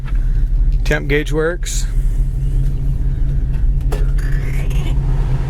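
A 1973 Chevy Nova SS idles with a steady low rumble throughout, close and loud, while someone talks over it.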